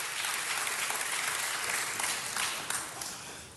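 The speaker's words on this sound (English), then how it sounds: "So if you want to give me another applause, I'll take it" An audience at a neighborhood council budget day claps in sustained applause, a dense even wash of hands that tapers slightly at the end.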